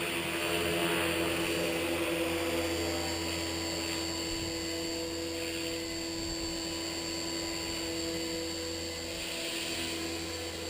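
An upgraded EXI 450 Pro radio-controlled helicopter flies outdoors with a steady high-pitched rotor and motor whine that holds constant and loud throughout, with a little wind.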